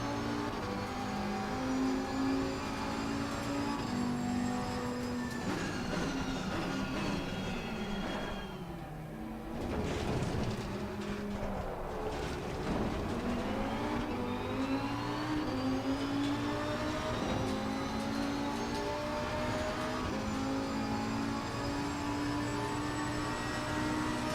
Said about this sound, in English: Oh yeah, now this sounds like the Lamborghini.